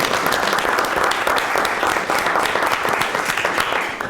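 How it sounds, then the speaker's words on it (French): A hall audience at a city council meeting in Chandler applauds an award recipient with steady, dense clapping that fills the whole stretch at even loudness, fading slightly at the end. "On va l'applaudir."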